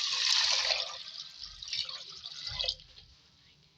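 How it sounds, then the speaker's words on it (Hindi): Water is poured from a glass into a pot of washed moong and masoor lentils, a splashy gush that tapers into trickling and dripping over several seconds. "उसमें पानी डालेंगे 4 गिलास"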